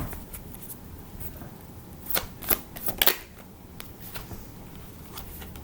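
Tarot cards being shuffled and drawn: soft riffling and sliding card sounds, close and quiet, with a few sharper flicks and snaps as cards are pulled out in the middle.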